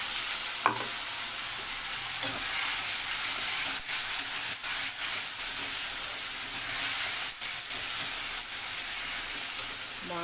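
Meat frying with whole garam masala and spices in a pan gives a continuous loud sizzle and hiss, broken by sharp scrapes and clanks of a spoon as it is stirred, with no talking.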